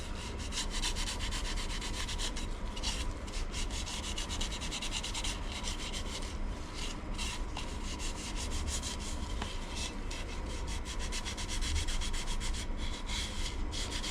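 A cloth rubs finish into a turned wooden bowl, giving a constant close scrubbing hiss with faint clicks, steady and unbroken, with no voices.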